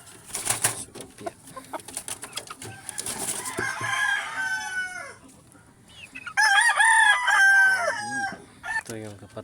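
A gray hatch gamefowl rooster crows loudly nearby, with clucking and wing flaps around the calls, and someone speaks between them.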